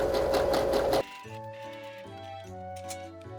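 A sewing machine whirs steadily while stitching cloth for a homemade mask, then stops and gives way to a brief stretch of tonal music.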